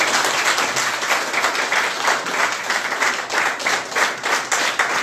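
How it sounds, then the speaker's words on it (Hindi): A church congregation gives the pastor loud, sustained applause, dense clapping from many hands filling the room steadily without a break. "बार फिर से पास्टर के लिए जोरदार ताली।"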